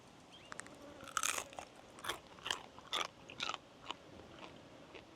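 Close, quiet crunching and chewing on crunchy tails outdoors at a remote Queensland station, a run of crisp bites in short irregular bursts with no voices.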